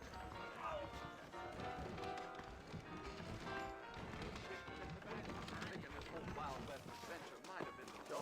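Horse hooves clip-clopping in the Red Dead Redemption game, a steady rhythmic trot at moderate distance beneath dense game ambience, music and other voices throughout.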